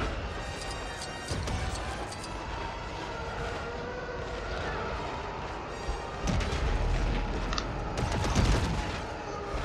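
Dense, continuous barrage of blaster shots and explosions from LEGO Star Wars: The Skywalker Saga, with sharp bursts and heavier booms layered over busy game noise, loud throughout.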